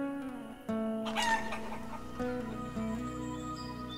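Chicken clucking in the farming village game Life is Feudal: Forest Village, a few short clucks and calls over a steady musical game background, fairly faint.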